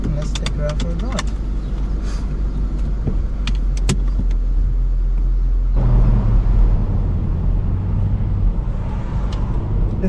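A Mercedes SLK 55 AMG (R171) with its M113 V8 drives along, giving a steady low engine rumble with road noise and a gear-change shift midway. The engine stays fairly quiet and constant throughout.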